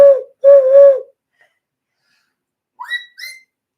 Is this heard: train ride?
no